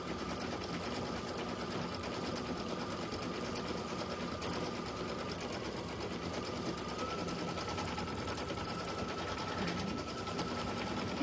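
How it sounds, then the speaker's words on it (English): Sewing machine stitching fast at speed setting 650 while making stuffed toys, a steady high-pitched whirring drone that runs without a break at an even rate. "I'm not gonna get up to my eyeballs with the needle if I'm sewing at 650."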